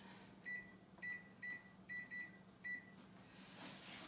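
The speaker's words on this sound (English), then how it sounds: "And I'm gonna set the timer for 25 minutes." Kitchen oven timer being set for a cake bake: six short, faint electronic beeps at irregular intervals, each a clear high tone, over a low hum of room noise.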